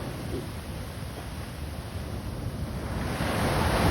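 Ocean surf washes in continuously, a broad rushing roar with wind buffeting the microphone, swelling louder toward the end.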